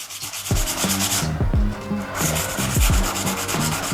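Coarse-grit sandpaper wet-sanding a sagged run in lacquer paint, with close, steady back-and-forth rubbing strokes in a continuous rhythm and no talking.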